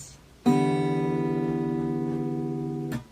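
One guitar chord strummed on four open strings rings out cleanly and close, a single sharp attack followed by about two and a half seconds of steady sustain before it is damped, with no voice over it.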